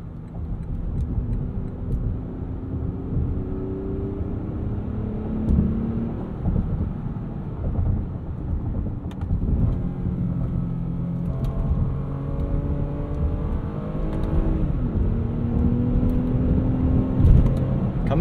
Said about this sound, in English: It does rev match our downshifts here